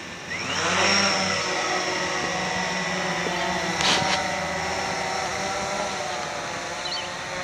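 A Blade 350QX quadcopter drone flies and hovers nearby with a loud, buzzing whine whose pitch sweeps up and down as it manoeuvres, then holds steadier in a hover.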